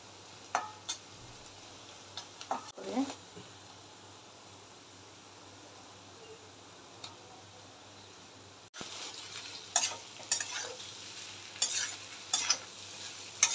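Potatoes with turmeric being sautéed in a pan, a faint low sizzle broken by sharp spatula taps and scrapes that get busier toward the end, no talking.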